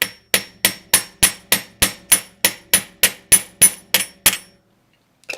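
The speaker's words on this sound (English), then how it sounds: "Just hammering that curve a little bit." A hammer strikes a curved piece of wire while shaping a pendant, about fourteen sharp, evenly spaced metallic taps close up, then a pause and one final tap.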